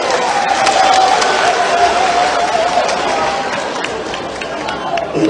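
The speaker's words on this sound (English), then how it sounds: "Clap for yourself." Dense, sustained applause and cheering from a large crowd of about 2,000 at a political rally in Ghana's Northern region, loud and steady throughout with a faint tonal hum underneath.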